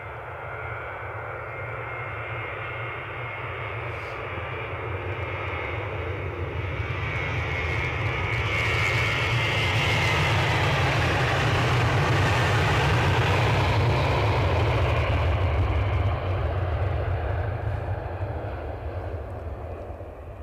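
A low-slung Embraer jet departing Edinburgh airport, a loud sustained engine roar that swells to a peak and then slowly recedes.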